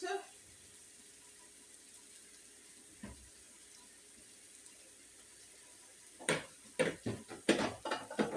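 A kitchen tap is turned on while dinner is cooked. After a long quiet stretch with one soft knock, water splashes in uneven bursts for the final two seconds, close by.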